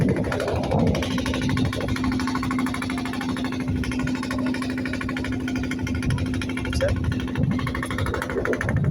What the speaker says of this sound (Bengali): এটা হচ্ছে ট্রলার আমাদের